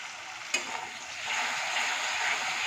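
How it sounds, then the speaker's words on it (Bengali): Spices tempered with asafoetida sizzling steadily in a pan, with a sharp hiss and crackle as a little water hits the hot oil, then a continuous frying sizzle and faint stirring. "সামান্য একটু জল দিয়ে দিচ্ছি।"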